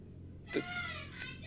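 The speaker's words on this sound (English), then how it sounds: "And it had a little kitten in front of the microphone." A small kitten mews once, a short high cry standing out over a steady low room hum, followed by a fainter second mew a moment later.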